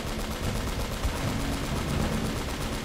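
Continuous automatic gunfire from Drake's gun in Uncharted: Drake's Fortune, a dense, steady, loud rattle of rapid shots running unbroken throughout.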